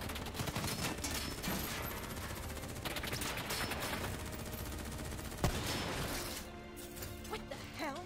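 Sustained gunfire in Call of Duty Black Ops 3 during a battle with a Titan: dense, continuous bursts of shots with a sharp crack near the middle, loud throughout, with faint voices in the mix.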